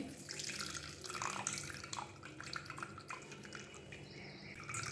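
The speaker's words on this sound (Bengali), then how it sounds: "দেখো এর মধ্যে দিতেই কতটা জল এমনি বেরিয়ে যাচ্ছে আমি এবার চাপ দিয়ে বের করছি" Juice is squeezed by hand from grated raw mango, trickling and dripping quietly in a steady, close stream with no talking.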